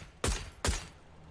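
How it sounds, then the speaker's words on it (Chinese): Two sharp, loud gunshots about half a second apart in a PUBG esports match, each with a short echoing tail, followed by quiet. "听到了这个枪声"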